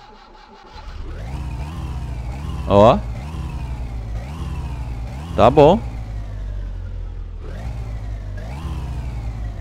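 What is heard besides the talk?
car engine starting and revving in My Summer Car video game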